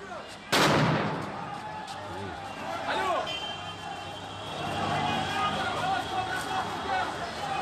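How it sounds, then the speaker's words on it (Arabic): Live gunfire at a street protest during Iraq's October uprising, with a loud sharp shot up close followed by further distant bangs over steady crowd noise and babble. "إطلاق نار رصاص حي تطلق على المتظاهرين"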